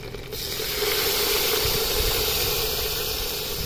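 Curry leaves and crushed garlic hit hot oil for a raw-peanut kadaisal kuzhambu, giving a loud, steady, continuous hiss that holds evenly throughout with no talking.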